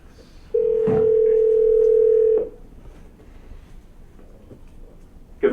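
A telephone dial tone sounds loud and steady for nearly two seconds while a call connects in a board meeting, then cuts off into quiet line noise with faint clicks.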